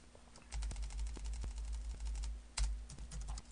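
Computer keyboard typing during a software coding session, a quiet series of irregular clicky keystrokes up close with a steady low hum underneath and no talk.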